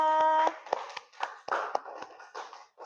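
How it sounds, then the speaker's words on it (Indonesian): Sparse, uneven hand claps from a small classroom group applauding group 2 after a presentation, a few distinct slaps following a short tone at the start. "kasih tepuk tangan untuk kelompok 2"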